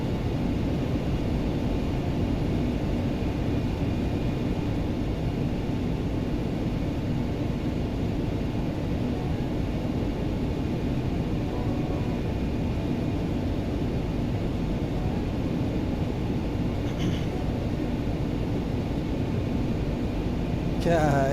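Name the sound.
X-Crafts ERJ jet climbing, flight simulator video game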